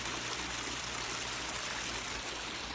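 Cold water in a hill stream in the Kotli Sattian hills rushes and trickles in a steady, close, continuous wash with no pauses or voices.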